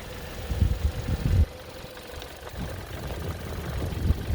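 The engine of a 2019 Kia Optima idles quietly, a low, steady rumble with a few soft thumps near the start, heard alone without talk.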